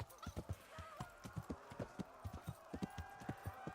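Rapid clip-clop of horse hooves at a steady gallop in the video game Kingdom Come: Deliverance, close and fairly loud, with a faint low background hum.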